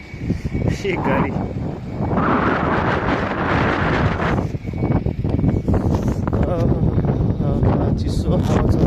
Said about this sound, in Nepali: चिसो हावा चल्दैछ